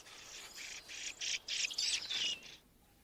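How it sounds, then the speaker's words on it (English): A Lapland bunting gives a short run of high, rapid calls, several chirping bursts in quick succession, close and clear against a quiet background. "And the circumpolar Lapland bunting."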